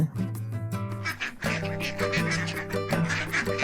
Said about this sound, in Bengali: কিরে পল্টু, ওই দেখ পুরো হাঁসের বাগান।